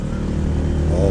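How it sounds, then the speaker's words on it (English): A loud motorbike with a sidecar passes close by on a street in Thailand, its engine a thick continuous rumble that rises slightly in pitch at the end. "Here comes a loud motorbike."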